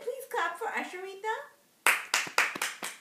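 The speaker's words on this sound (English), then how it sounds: "So everybody please clap for Asharita." A voice speaks at first, then a few sharp hand claps follow in a loose rhythm near the microphone.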